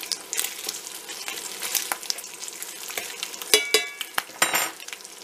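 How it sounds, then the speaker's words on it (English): Bacon fries in a skillet on an induction cooktop with a busy crackling sizzle that pops and spits, along with a few sharp clinks of a utensil against the pan. "That's how long it's taken us to cook this bacon."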